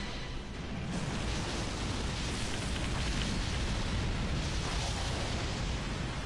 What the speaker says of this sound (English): All I see is explosions.